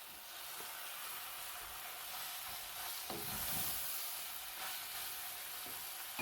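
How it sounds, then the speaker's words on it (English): Egg noodles tumble into a hot pan of bacon and browned onions, setting off a steady, close sizzle and frying hiss with light stirring scrapes throughout, no talking. "I am going to add in my noodles."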